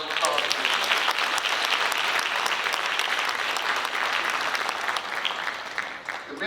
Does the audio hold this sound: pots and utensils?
no